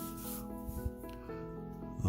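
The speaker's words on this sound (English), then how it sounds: "But I'm still able to cut the lines pretty well." A blade cuts through the cardboard of a paper craft kit with a faint, continuous scraping rasp over about two seconds, close and quiet, with no voices.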